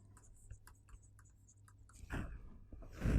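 Faint scratchy writing on a board sounds in light short strokes, followed by louder scraping strokes near the end.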